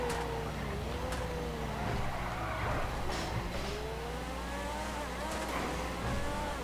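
Car engine from GTA V gameplay on a drive toward Los Santos airport, a steady droning hum with rising and falling revs over continuous road noise, no voices.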